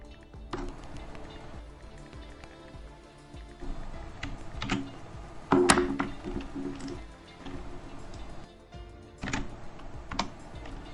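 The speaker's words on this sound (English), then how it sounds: "How audible is the typing?" Clicks and clatter of typing on a computer keyboard, irregular bursts of keystrokes with a few sharper, louder presses, heard close over a low background hum.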